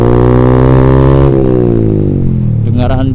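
Ronin Black Katana motorcycle exhaust with freshly replaced glass wool packing, a loud steady engine drone with strong harmonics that drops in pitch midway as revs ease, recorded from a helmet-mounted camera.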